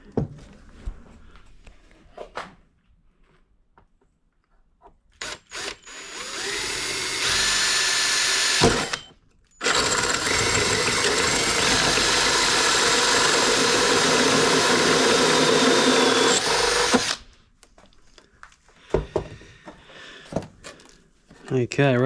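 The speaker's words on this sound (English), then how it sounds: "Okay, we're at the fun bit now. Drilling holes." Power drill boring 40mm holes during a boat rebuild, a loud sustained whine lasting several seconds, briefly stopping and restarting, framed by shorter bursts, clunks and quiet handling noise.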